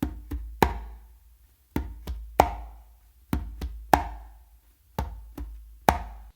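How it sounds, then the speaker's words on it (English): Conga drum played in a slappy tumbao, sharp closed slaps followed by soft finger and bass ghost notes from the other hand, a steady repeating pattern heard up close without any voices. "After doing that close slap, what you're actually going to do is a finger and then a bass with your non-dominant hand."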